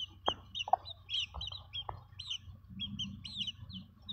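Aseel chickens cluck and chirp softly at close range, with short clucks mixed among higher peeping calls from chicks in a quiet setting.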